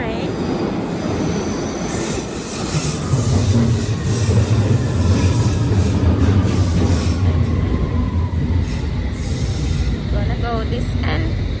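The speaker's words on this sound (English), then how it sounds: "here comes the train" A London Underground train pulls into the station with loud, continuous rumbling and high wheel squeal, rising as it nears, while a voice talks over it.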